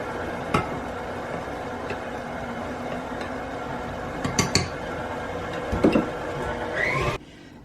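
Oats and flour being added to a dry cookie dough in a mixing bowl, with a steady mixer-like hum and scattered clinks and scrapes against the bowl, ending abruptly.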